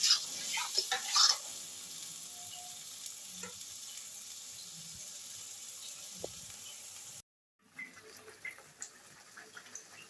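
Onion, ginger, garlic and tomato paste frying in a pan for chicken curry: a soft, steady sizzle with a louder crackle burst at the start, then a brief dropout before the quiet frying continues.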